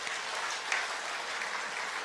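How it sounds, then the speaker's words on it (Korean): A Korean church congregation at a regional revival meeting breaks into a short burst of dense, even clapping, filling the hall without a voice over it. "우리 에덴교회를 위해서 한번 박수 쳤으면 좋겠습니다"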